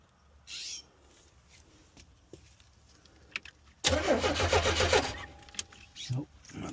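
1986 Chevy Astro mini motorhome engine cranking without starting, a loud rapid starter churn for about a second after some quiet clicks and handling noise, then stopping with no ignition, with a voice speaking briefly.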